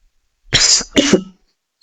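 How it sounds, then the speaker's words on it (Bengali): Two quick, sharp coughs burst out close and loud, one right after the other, with silence before and after. "কাশি চলে আসছে"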